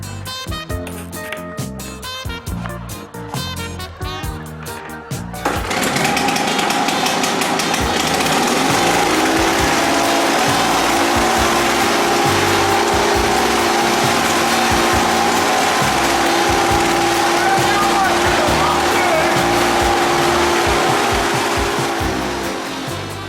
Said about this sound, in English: taken my trusty Victor mower and I fitted this floor mop to the mower blades